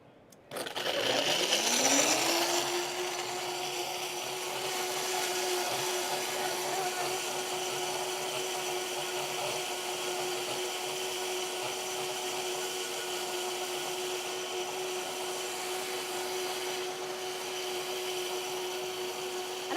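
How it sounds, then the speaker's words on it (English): A blender spins up and then runs steadily for about twenty seconds, blending ingredients with half a cup of water during a home cooking demo, loud and close with a constant whirring drone. "I try not to compete with the blender, so I'll be quiet for a second."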